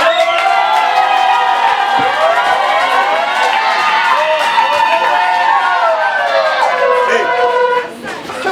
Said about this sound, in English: Let's give a round of applause to Nana.